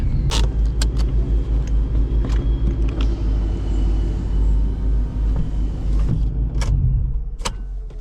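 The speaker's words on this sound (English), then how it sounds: "Quick little drive just to stretch Blucifer's legs." An old car driving along, its engine a steady, loud low rumble throughout, with occasional sharp clicks and rattles from the cabin and no talking.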